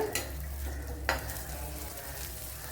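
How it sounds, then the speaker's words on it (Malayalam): Three green chillies sautéing in a pan with ginger and garlic produce a soft, quiet sizzle, broken by a sharp spoon or spatula scrape near the start and another about a second later. "അതുപോലെ ഒരു 3 പച്ചമുളക്, ഇതിനെ ഒന്ന് മൂപ്പിച്ചെടുക്കുക"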